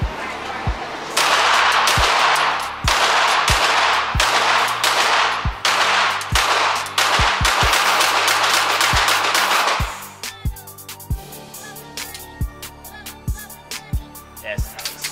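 Rapid gunfire from an Optic Ready XL gun at a vendor showcase, loud sharp shots in steady bursts for about ten seconds, then quieter spaced single shots with softer background noise.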